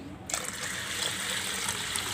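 Steady splashing of water pouring into a pressure cooker holding soaked horse gram, starting abruptly and continuing without a break, close and fairly loud.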